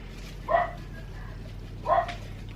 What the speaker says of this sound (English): Those dogs are on the naughty list today.